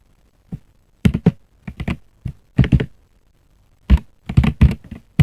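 Python code being typed on a computer keyboard: scattered bursts of crisp key clicks in uneven clusters with short pauses between, close and fairly loud, with no talking.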